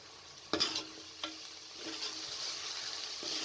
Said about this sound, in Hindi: कीमा शामिल करके आपने अच्छे तरीके से तकरीबन 5 मिनट तक इसको भून लेना है